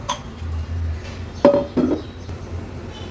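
A large metal cooking pot is set down on a gas stove in a home kitchen, giving two close clanks of metal on the burner grate over quiet background hum.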